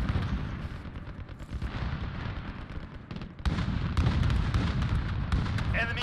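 Gunfire in Call of Duty: Modern Warfare multiplayer, rapid cracks and booming shots in dense bursts, loud and close, with a heavier barrage partway through.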